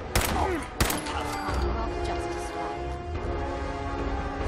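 Gunfire in Fallout 4 while fighting raiders: two sharp shots near the start, then a dense bed of combat noise with music-like tones, continuing without clear talk.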